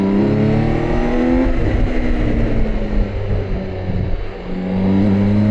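A BMW K 1600 GT six-cylinder motorcycle engine hums smoothly while riding a mountain pass, its pitch rising and falling through the gears with wind rush, loud and close.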